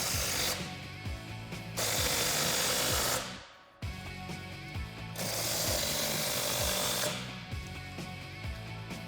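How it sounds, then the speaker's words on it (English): Rapid ratchet clicking from a 5/16 inch Allen socket tightening bolts on a Jeep Wrangler JL axle-back exhaust, in close repeated bursts of fast pawl ticks separated by short pauses. "we can take a 5/16 inch Allen socket and tighten those both down."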